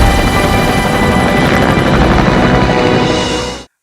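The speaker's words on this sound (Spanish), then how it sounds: "vemos un helicóptero despegando. ¡Qué menudo ruidaco mete el condenado!" A helicopter takes off in a Jurassic World Evolution 2 trailer, a loud, dense rotor roar with rapid chopping blades filling the scene until it cuts off abruptly.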